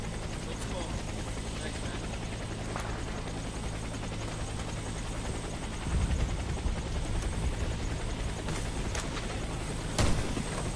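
A helicopter in the video game Warface drones with a constant rotor roar that swells slightly partway through, with a few sharp bursts like gunfire standing out above it.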